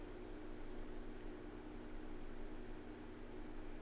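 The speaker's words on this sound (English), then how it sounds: "White noise?" Steady hiss of white noise playing from a Rosesel Sa Cambrian sound device, even and unbroken throughout, moderately quiet with a faint low hum underneath.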